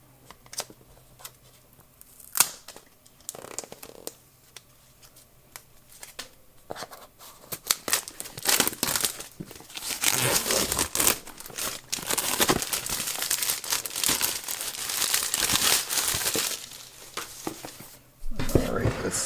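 Cardboard packaging of a OnePlus 8 Pro box being opened by its pull tab, with crinkling, rustling and tearing that builds to a sustained scrape in the middle and is punctuated by a few sharp clicks, close and moderately loud, with a voice nearby.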